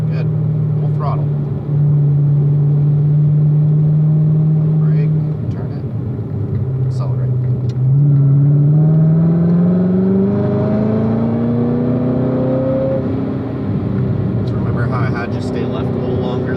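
A car engine pulls hard at full throttle on a track, its tone rising steadily as it accelerates, loud and close, with a driving instructor's voice talking over it.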